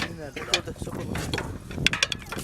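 A garlic planting machine works in a field, giving a clattering mechanical rattle with irregular metallic clicks and ratcheting ticks, while people talk faintly nearby.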